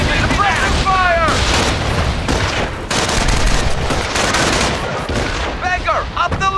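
Dense, loud machine gun fire and booming blasts in Company of Heroes battle, continuous bursts close up, with shouting voices breaking through the din.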